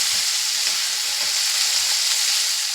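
Onion, garlic and peas fry in a pan, giving a steady close sizzle with faint stirring scrapes throughout, no voices.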